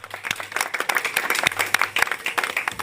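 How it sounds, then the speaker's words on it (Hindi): Audience at a religious discourse gathering claps together in a steady, dense burst of applause, close and moderately loud throughout, with no speech over it. "आप ताली बजाओ"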